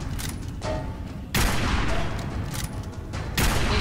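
Rapid bursts of gunfire from the video game Fallout 4 crack repeatedly in close, loud volleys, several heavy shots spaced across a few seconds with a booming tail.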